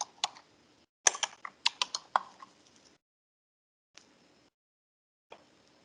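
Keyboard typing on a computer while entering a run control ID name: a quick burst of close, crisp key clicks, then a pause and two isolated keystrokes after silence.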